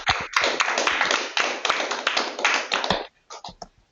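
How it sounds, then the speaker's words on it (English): Web meeting participants applauding, uneven bursts of clapping and tapping close to the microphones that run for about three seconds, then thin out into a few scattered taps. "So let's all give him a round of applause."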